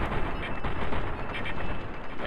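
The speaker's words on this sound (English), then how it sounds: "So let's go ahead and headshot these guys." Gunshots in Fallout: New Vegas, a dense, continuous burst of loud firing and combat noise that runs without a break and has no talk over it.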